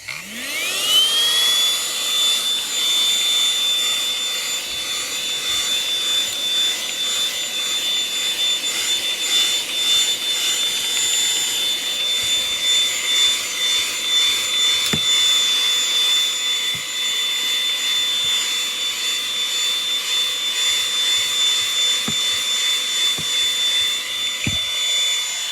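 A Baseus A1 small handheld car vacuum cleaner spins up and runs continuously with a high-pitched motor whine, close and loud, with occasional faint clunks.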